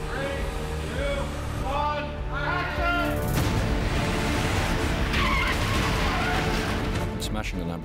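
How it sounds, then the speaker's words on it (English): A Lamborghini in a real stunt crash skids with loud, sustained tire noise and engine roar for several seconds, near and harsh, with a short crash burst partway through and a voice underneath at the start. "Lamborghini crash was pretty much all down to George Cottle, the stunt driver, actually"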